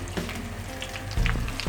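Chicken fries in oil over low heat in a Pakistani fried chicken recipe, giving a close, continuous sizzle with scattered crackles and a louder burst near the end.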